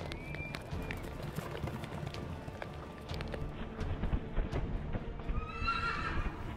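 Racing horses thunder past with hooves drumming and a high neigh rising near the end, set against a steady outdoor rumble of a race crowd and weather.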